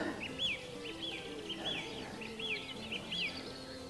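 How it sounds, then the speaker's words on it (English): Early-spring countryside birdsong in the Yorkshire Wolds near Pocklington: a bird repeats short, clear chirps at a fairly even pace over a soft outdoor background. "It's just me and the birds."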